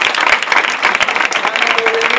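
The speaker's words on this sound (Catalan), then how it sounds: "per favor un fort aplaudiment" Audience at a gastronomic contest event applauding loudly and steadily, a dense wash of clapping that holds for the whole moment with a faint voice near the end.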